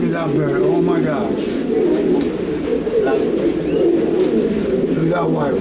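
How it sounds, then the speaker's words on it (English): Fancy pigeons kept by a Florida breeder give a steady, low rolling coo throughout, many birds murmuring together close by, with a voice talking over them. "Look at that white one. Beautiful birds, beautiful birds."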